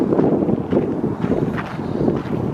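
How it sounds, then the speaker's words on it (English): Steady gusts of wind buffet a microphone on a riverside trail by a tidal river, a continuous low rushing roar that swells and eases throughout. "The wind's picking up slightly."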